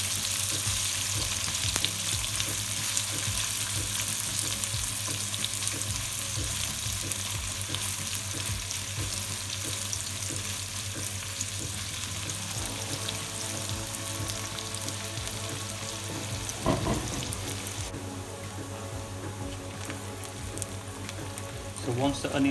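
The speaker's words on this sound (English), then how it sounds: "So once the onions have softened, as you can see, and caramelized" Sliced onions frying and softening in a pan for chicken achari, giving a loud, continuous close-up sizzle with occasional stirring, while a person talks over it.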